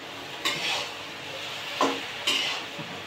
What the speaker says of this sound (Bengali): কতগুলো নুডলস রান্না করতেছে দেখেন, কতগুলো নিচে রান্না করতে।